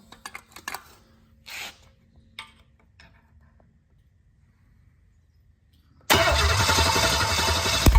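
A car engine sitting on a shop floor, out of the vehicle, clicks and cranks briefly, then fires and roars into a loud, steady run after a few seconds of near silence.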